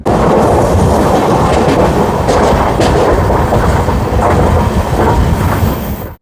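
Gangasagar Express (13185) rolling on tracks between Madhubani and Rajnagar in Bihar, a loud, continuous rumble with steady clickety-clack of wagons throughout, close and unbroken until it cuts off at the end.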